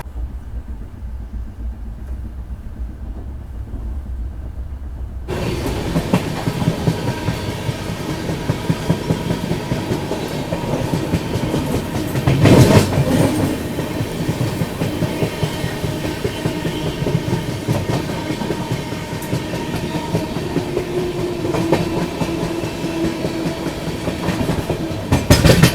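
Passenger train, the AP Express from Visakhapatnam to New Delhi, running at night: a steady loud rumble and rhythmic clickety-clack of the rolling coaches, rising sharply after a quiet start, with a brief louder surge midway and no talking.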